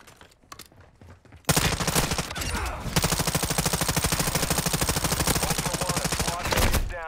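Video game gunfire: after a short quieter lead-in, a loud, sustained automatic weapon fusillade erupts, with rapid, evenly spaced shots rattling nonstop for several seconds before a brief tail.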